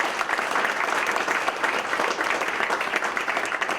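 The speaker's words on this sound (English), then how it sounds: "So please, one more round of applause for Claire and Susan." Dense, steady applause from an audience at a Global Studies senior awards breakfast, honoring two people, sustained at an even level throughout without a break.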